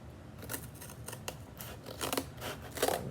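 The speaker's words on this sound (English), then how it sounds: "I'm just gonna cut this strip halfway from that side and halfway from this side." Scissors snip through a strip of material in a series of close, crisp cuts, irregular in rhythm, with no talking.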